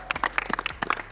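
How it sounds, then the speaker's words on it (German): A small crowd at a youth football one-on-one tournament claps for both competitors, a short burst of distinct, fairly close hand claps with a few quick uneven beats. "Wir geben nochmal Applaus für beide Kandidaten"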